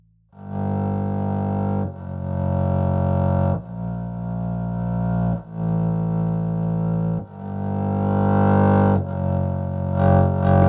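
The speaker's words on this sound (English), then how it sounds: "So just a more bowed double bass." A physically modeled bowed double bass from Audio Modeling SWAM plays sustained low notes alone, several long bowed tones at changing pitches with brief gaps between them, full and resonant.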